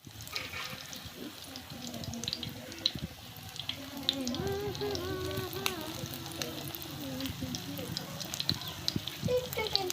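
Egg-dipped aloo shami kebabs frying in a pan: a continuous close sizzle with occasional clinks and stirring, while a voice speaks over it.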